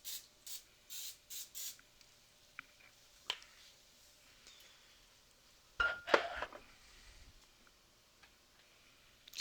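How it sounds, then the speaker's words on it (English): Short hissing bursts of cooking oil spray over vegetables, four quick pumps in a row near the start, then a few isolated clicks and a louder rustling burst later. "I know that they have oil on them, but I should spray."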